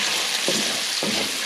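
Onions fry in a pan with a dense, steady sizzle that stays close and loud throughout, and no one talks.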